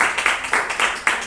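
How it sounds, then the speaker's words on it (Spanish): Audience clapping at a science talk on auroras in northern Mexico, a short burst of rhythmic claps from a small crowd, fairly close and steady, with no voices over it. "Aplausos, por favor."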